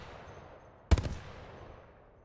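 A Hemlock burst rifle in a video game fires one quick burst of rapid shots, close and punchy, with a short echoing tail fading into quiet.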